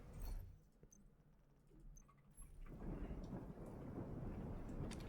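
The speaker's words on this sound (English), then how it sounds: "It's raining, right?" Rain and rolling thunder in the video game The Division 2: a faint, steady wash of rainfall with low rumbling that thickens into denser, continuous downpour, no talking.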